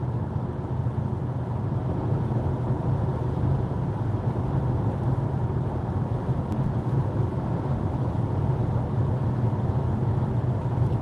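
An electric car, an MG S5, rolls along freshly laid, quiet asphalt, heard from inside as a steady, even road and tire hum with a low rumble and no engine note.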